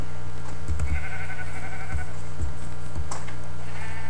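Sheep in the Minecraft video game bleating several times in short, close, loud bursts over a steady background tone, with no talking.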